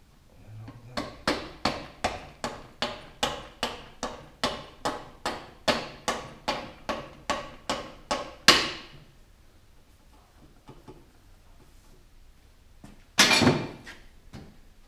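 Motorcycle wheel on a Honda Benly being lightly tapped to seat the drive gear, about twenty even, sharp knocks in a steady rhythm, then a single louder knock and a later clunk, close and without talk.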